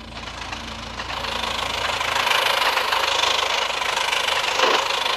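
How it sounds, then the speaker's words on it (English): A GE locomotive engine runs in the Trainz train simulator game, giving a continuous droning rumble with a knocking idle texture that grows slightly louder partway through and stays steady with no talking. "Galaxy Express engine is going to the station."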